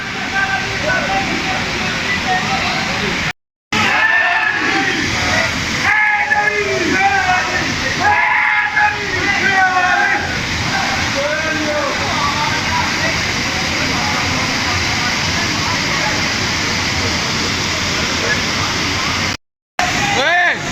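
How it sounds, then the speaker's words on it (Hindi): Dense, roaring rush of water near Noori Waterfall in KPK, loud and continuous throughout, with a few brief dropouts and a voice faintly mixed in. "ये है जी नूरी वाटरफॉल से थोड़ा सा ऊपर।"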